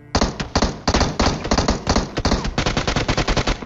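Rapid automatic gunfire from an M16 rifle in a shooting video game, with dense, loud bursts of shots in quick succession and short gaps between volleys.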